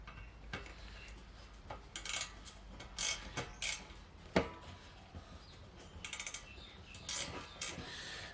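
Metal parts of an air fryer being pulled apart, with sharp clicks, ticks and small metallic clatters at irregular intervals, close and fairly quiet.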